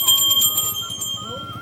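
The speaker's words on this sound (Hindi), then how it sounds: "तो मैंने यहाँ पे घंटी चेक करी कौन सी लूँ" A small bell bought in Haridwar is rung to test it, giving bright, close metallic strikes with a sustained, shimmering ring that fades between hits.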